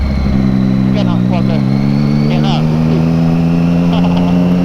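A steady ATV engine drones loudly while riding, its pitch rising slowly, with voices talking over it.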